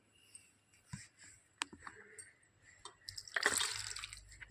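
Water splashes into a pressure cooker pot already holding tomatoes, cumin, turmeric, salt and tamarind. A short, close pour swells near the end after a few light clinks and drips.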